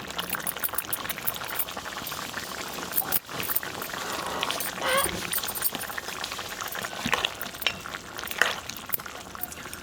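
Steady bubbling and simmering of country chicken curry in a pot, a continuous close hiss with small pops and a brief clatter partway through.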